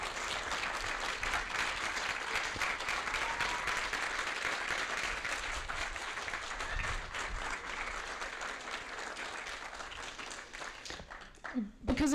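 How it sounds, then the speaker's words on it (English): Sustained audience applause at a client and dog team graduation ceremony, steady and fairly loud for most of the stretch, with murmuring voices underneath and a brief voice breaking through at the end. "I just want to take a moment for everyone to applaud all that he has done"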